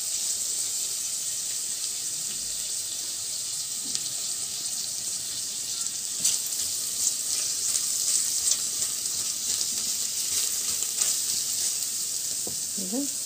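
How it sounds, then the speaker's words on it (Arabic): Meat and onion sautéing in a pan, a steady close sizzle that holds evenly throughout, with faint stirring scrapes and no talk. "بنشوح اللحمة مع البصلة كده قبل ما احط الصلصة"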